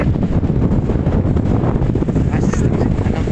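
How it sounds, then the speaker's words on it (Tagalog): Steady wind at the seaside buffets and roars across the microphone outdoors, a constant gusty rush with no clear pauses. "Ganda ng simoy ng hangin guys"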